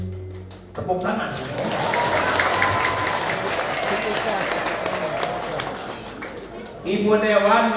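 An audience at a humorous Sundanese religious sermon breaks into loud, sustained applause for several seconds, with a voice speaking before and after the clapping.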